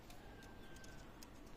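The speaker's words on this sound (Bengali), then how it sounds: "দেখেন চমৎকার সাহারানপুরি কবুতর" Saharanpuri pigeons cooing at a pigeon sale, soft repeated low coos under a steady background hum with faint chirps, fairly quiet and continuous.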